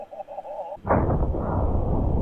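A .458 Win Mag round fired from an M1 Garand into a level 4 armor plate: one loud, sharp report with a long rumbling tail, preceded by a short beeping tone.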